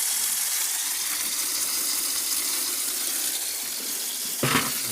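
Fresh water poured into a container without a handle, a steady hissing stream that keeps on throughout, with a brief louder splash near the end.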